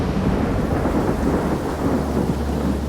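Heavy rain pours steadily outdoors with a deep thunder-like rumble underneath, a dense continuous wash of sound on a shooting range during a storm.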